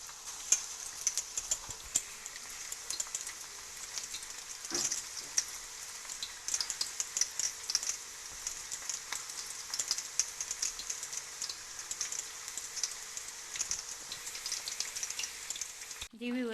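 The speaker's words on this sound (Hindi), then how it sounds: "दूसरी जानिब मैंने कढ़ाई चढ़ा ली है, ऑयल गर्म हो गया। अब हम ये कोफ्ते इसके अंदर डालते हैं।" Beef koftas frying in hot oil in a wok, a steady crackling sizzle that holds at one level throughout, with a brief voice right at the end.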